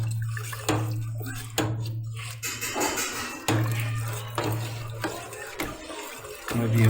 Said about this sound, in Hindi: साथ साथ चम्मच हिलाते रहेंगे यूँ